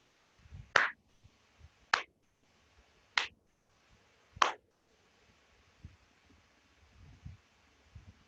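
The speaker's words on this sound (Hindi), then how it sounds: "ताली बजाती हूँ, ध्यान से देखना।" Four sharp hand claps ring out about a second apart, marking the count for a breathing exercise, followed by quiet stillness with faint soft rustles.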